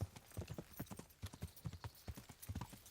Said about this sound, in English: See how long it takes my horse to get there